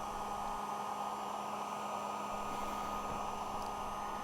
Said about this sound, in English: I apply a thick coat of wax, then heat it with a heat gun to soak it into the leather